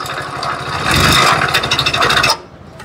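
A Hero Splendor Plus BS6 motorcycle engine with a seized crank runs badly, giving a harsh rhythmic rasping and grinding clatter up close that swells and pulses before cutting off abruptly.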